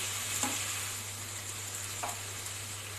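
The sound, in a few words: sautéing mixed vegetables with tomato and ginger paste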